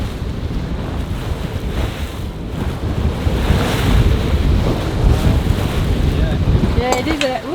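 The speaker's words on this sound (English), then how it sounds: "We're starting to get some swell." A sailboat crossing the Caribbean Sea pushes through building ocean swell, with loud continuous wind rush buffeting the microphone and surging water wash; a voice briefly breaks in near the end.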